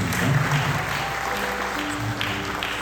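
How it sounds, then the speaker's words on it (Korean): Steady applause from an audience at a church worship service fills the clip, a dense patter of clapping at moderate loudness with faint voices underneath. "다시 한번 큰 박수 우리 준현단에게 보내시겠습니다."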